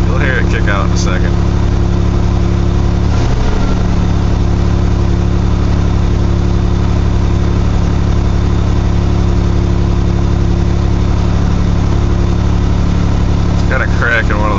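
A carbureted 1982 GMC S-15 with a 2.8 V6 and a cracked exhaust manifold idles loud and steady during a cold start at 35 degrees, with brief voices near the start and end.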